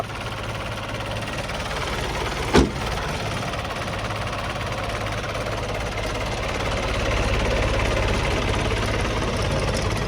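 A car engine idles steadily nearby with a low, even rumble and faint knocking, broken by one sharp knock or thump, then grows slightly louder toward the end; no one speaks.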